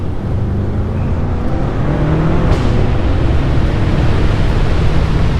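A BMW F10 M5 drives along with a steady low engine drone and heavy road and wind roar inside the cabin, loud and continuous with no talk.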